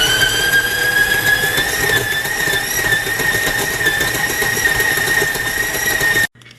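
A stand mixer with a dough hook kneading bread dough, a steady loud motor whine with a constant pitch running without a break before stopping abruptly at the end.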